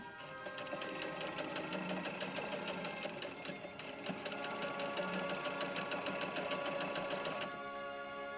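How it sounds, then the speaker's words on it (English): A sewing machine stitches silver jacket fabric that frays easily, running in a steady, fast, near-continuous mechanical whir with rapid needle clatter for about seven seconds before stopping. "Now I'm ready to come down the front of the other side."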